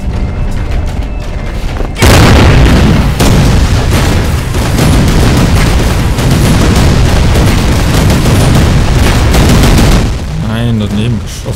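A sudden loud explosion in Rise of the Triad erupts after a quieter stretch, followed by sustained rumbling booms and gunfire, with a tonal game sound at the end.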